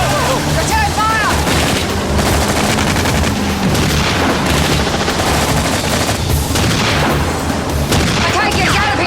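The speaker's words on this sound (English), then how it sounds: "Return fire!" Gunfire rattles through a firefight aboard ship in a naval TV drama: dense, loud bursts of automatic weapons and booming shots, with voices shouting amid the shooting.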